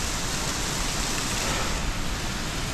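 Steady, dense rain pours throughout on the trek to Deurali in Nepal's Annapurna region, a continuous close hiss with no breaks and no voices.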